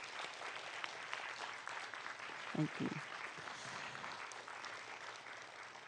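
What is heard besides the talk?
audience applause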